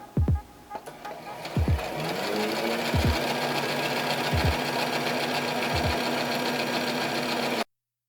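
A home sewing machine stitches fabric for a hijab, running as a steady, close mechanical whir with several brief louder thumps at the start of each run.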